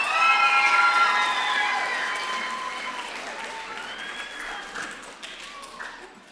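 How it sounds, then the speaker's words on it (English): Applause fills a school assembly honoring student performers, with many hands clapping at once, loud at first and then fading steadily, with a few cheers and children's shouts mixed in. "Can we get one more round of applause for our amazing performers?"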